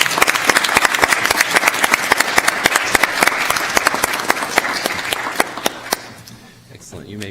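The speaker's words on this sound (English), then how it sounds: "Let's give them a round of applause." Crowd at a Florida Bar induction ceremony applauds the new members, brisk clapping with sharp individual claps standing out, then tapering off near the end as the room settles.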